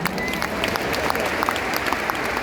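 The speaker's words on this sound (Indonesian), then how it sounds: "Tepuk tangan dong buat Tuhan." Audience applause fills a large church revival gathering in an arena in Papua, steady dense clapping throughout, moderately loud and close, with no talk over it.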